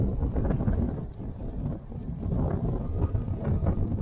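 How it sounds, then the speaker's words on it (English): Strong hurricane wind buffeting the microphone on a beach at low tide, a steady roaring rumble with gusty swells throughout. "Lord, some wind."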